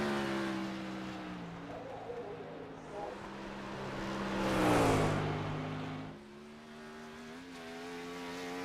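Sprint car engine running a qualifying lap at Nashville in iRacing, a steady high engine drone that rises and swells near the middle, then eases as it passes and settles back.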